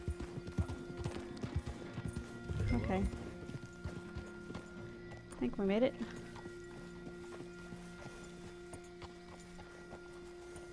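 A horse in the Red Dead Online video game clip-clops on hooves and gives two whinnying neighs a few seconds apart, fairly close, while a person speaks briefly over a low steady background.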